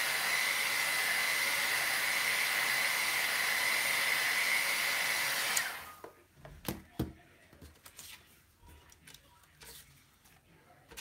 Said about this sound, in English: We're going to shoot it with a little bit of heat or a hair dryer if that's all you have.